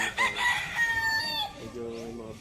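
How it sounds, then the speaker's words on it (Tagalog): Live chickens and roosters at a Filipino roadside barbecue restaurant in Pulilan, heard as a nearby rooster crowing loudly, followed by a second stretched crow and some clucking. "Daming mga manok dito, ah."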